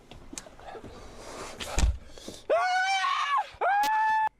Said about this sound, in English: See how loud we scream